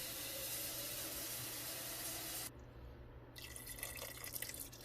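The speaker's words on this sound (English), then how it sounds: "I just want to cover the pasta with water" Water pouring over pasta in a pot, a steady broad rushing stream that breaks off briefly, then resumes as splashier, uneven pouring, close by with no talk.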